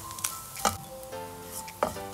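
Grated coconut roasts in a frying pan for Onam koottucurry: a faint steady sizzle with a few sharp scraping stir strokes against the pan.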